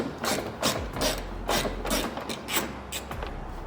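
A hand ratchet clicks steadily while loosening a bolt on the front bumper of a 2022 Toyota Tundra, a close, continuous run of rapid pawl clicks in uneven bursts with no talking.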